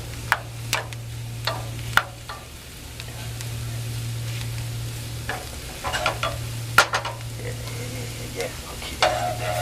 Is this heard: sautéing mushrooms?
yes